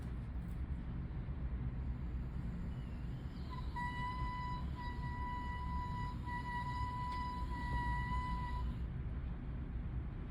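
A soft, steady oboe tone held for several seconds with a slight break partway as the reed speaks, faint against a loud low rumble of background noise.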